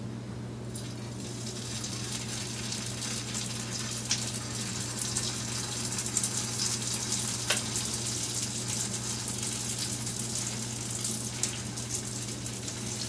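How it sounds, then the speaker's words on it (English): Nem spring rolls frying in oil in a pan on the stove give a steady, dense sizzle with scattered pops and crackles, close and continuous, with no talking. "So this is going to pop and sizzle."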